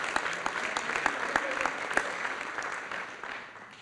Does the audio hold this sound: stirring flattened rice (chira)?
no